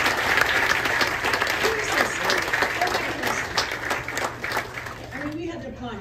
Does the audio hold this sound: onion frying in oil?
no